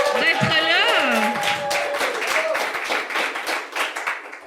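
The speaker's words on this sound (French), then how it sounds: "Fait qu'on peut applaudir Marie-Ève, merci d'être là" A podcast audience claps for a studio guest, the applause steady and close through the whole clip, with cheerful voices and whoops rising over it near the start.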